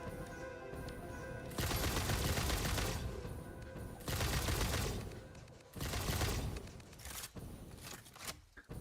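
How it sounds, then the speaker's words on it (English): Gunfire aimed at the player in Satisfactory VR comes in three dense rattling bursts of rapid shots, each lasting a couple of seconds, separated by quieter gaps with a few scattered thuds. "something's shooting at me"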